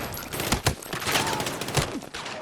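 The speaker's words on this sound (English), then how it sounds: "the sounds of the ammunition of the gun" Rapid bursts of video game gunfire crackle in quick succession, loud and close, with sharp cracks over a dense, noisy background.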